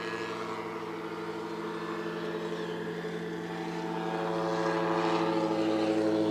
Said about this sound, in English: These Helios are swinging a 96-inch three-blade prop, so they're making tons of thrust right off the line.